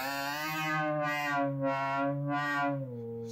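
OpenTheremin modular kit driving a synthesizer module's CV produces a sustained, harmonically rich electronic tone whose timbre sweeps open and closed in slow repeating waves, loud and alone.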